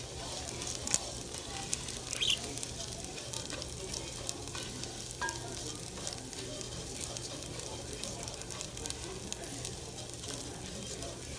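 Rice frying and browning in a pan for Mexican red rice, a steady close sizzle with light crackles running throughout, with no talking.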